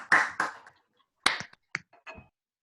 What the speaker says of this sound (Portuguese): Salva de palmas pro Russo, meus amores.